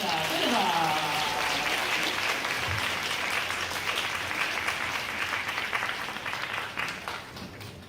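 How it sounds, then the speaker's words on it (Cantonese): A church congregation at a Sunday service bursts into sustained applause, a dense, even wash of many hands clapping that fades slightly toward the end. A voice is heard faintly at the start. "我哋俾好大掌聲啊"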